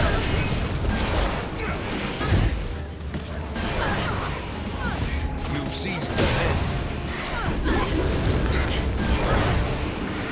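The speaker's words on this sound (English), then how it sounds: "switch to the dagger and in a blaze of fire charge at their enemies and surround them in a ring of fire" Fiery whooshes and bursts from a Guild Wars 2 Elementalist's dagger fire charge and ring of fire, a dense, continuous roar of crackling blasts and pops with louder swells near 2.5 and 6 seconds.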